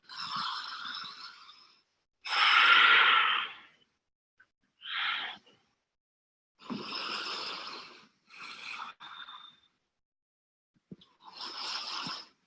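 Deep breathing during a yoga pose: slow, audible inhales and exhales in separate bursts with quiet gaps, close and fairly soft, no speech.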